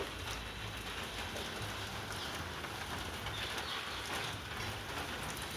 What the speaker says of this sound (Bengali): বন্ধু তখন বললাম না মেঘ করে আছে এই দেখো বৃষ্টি শুরু হয়ে গিয়েছে